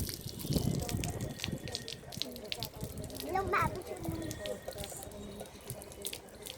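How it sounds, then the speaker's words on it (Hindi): Water pours out into a basin or onto the ground at home in a steady, fairly loud splashing stream, with voices talking over it throughout. "पानी गिरा रहे हैं"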